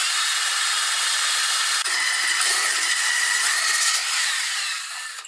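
Drill boring through a hollow ceramic tile, lubricated with a little water, makes a steady, loud, high-pitched grinding whine up close that barely changes for several seconds and then eases off slightly at the end.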